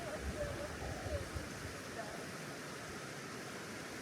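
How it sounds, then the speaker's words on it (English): A river flows at the foot of steep, high cliffs, its cold water making a soft, steady broadband rush. The sound is faint and continuous, with some low rumble near the start. "This is the river."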